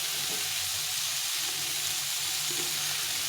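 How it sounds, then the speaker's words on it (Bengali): Small fish and spices frying in a pan for a Bengali chorchori, a steady broadband sizzle of hot oil running continuously at moderate level with no talk. "এইভাবে একটু ভেজে নিতে কিছুক্ষণ ধরে একটু সময় ধরে ভেজে নিতে হবে"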